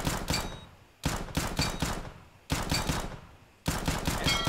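Pistol shots fired at pop-up wooden targets in Counter-Strike: Global Offensive, bursts of several sharp cracks in quick succession, each volley followed by a short pause before the next.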